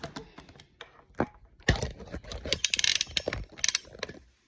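Yo-yo halves being screwed together, heard as a quick run of small plastic clicks and ratcheting ticks, close and fairly quiet, with a louder burst of clicking partway through.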